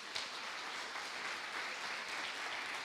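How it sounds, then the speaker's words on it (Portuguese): A church congregation applauds in praise, a dense, continuous patter of many hands clapping together, fairly distant and even in level throughout. "Aplauda o nome do Senhor Jesus"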